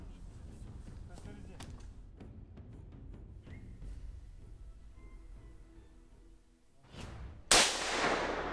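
A single sharp gunshot fired into the air cracks out near the end, loud and close, with a rolling echo trailing off after quieter outdoor rustling and handling noise during a bear hunt in Chechnya.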